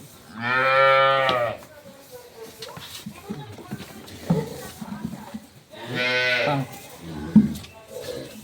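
A dairy cow moos twice on a farm with high-quality milking cows and calves, each call long, loud and close, separated by a few seconds of background talking.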